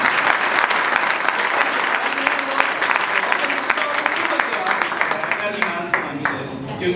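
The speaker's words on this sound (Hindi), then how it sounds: "तालियां बजानी है तो जोर से" A congregation at a Christian testimony service claps steadily and energetically throughout, a dense, loud wash of hands with crowd noise beneath.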